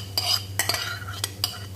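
A spoon stirs through an eggplant escabeche salad in a bowl, making four or five short, close scraping clinks against a steady low background hum, with no voices.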